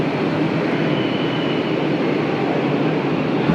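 Steady, loud rumbling roar from inside a Kolkata AC local train running from Sealdah to Ranaghat, a constant broadband wash of wheel and carriage noise with no pauses.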